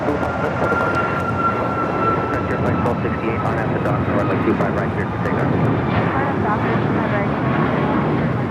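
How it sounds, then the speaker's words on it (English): A United Airlines Boeing 737 MAX 8 jet takes off from LAX, bound for Tampa, its steady broadband engine roar filling the scene at close range while people talk over it throughout. "That is United Airlines 279 taking off to Tampa, Florida on the MAX 8"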